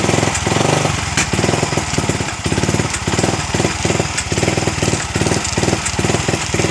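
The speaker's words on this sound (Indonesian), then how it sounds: "Jadi digas RPM malah turun." A Yamaha Vixion motorcycle engine that sputters when hot is revved, but its RPM drops. It gives a loud, close, rough, pulsing chug with an uneven, stuttering rhythm throughout.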